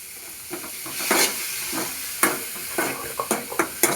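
Maize frying with carrot and other vegetables in a pan, where steady sizzling carries a string of sharp stirring scrapes that come faster toward the end.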